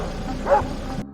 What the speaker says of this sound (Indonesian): Zoe mendengar gonggongan kedua anjing Dan dari dalam mobil Dan